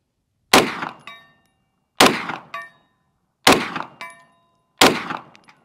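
Four evenly spaced shots from a Grand Power Stribog SP9A3S with a five-inch barrel, each followed a moment later by the sharp ring of a BC zone steel target at 100 yards. The ring fades quickly after each hit.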